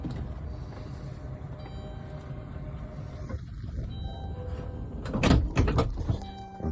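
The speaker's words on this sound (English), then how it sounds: "door's going to close." Powered sliding door of a 2014 Town & Country BraunAbility mobility van closing, a steady motor hum building to a louder mechanical thud and latch clunk near the end.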